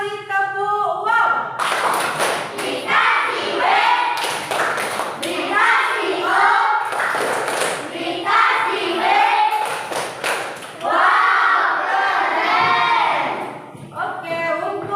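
Fifth-grade class in an Indonesian school doing the tepuk wow clapping cheer, rhythmic group claps and thumps mixed with loud children's voices chanting and talking throughout, close and energetic.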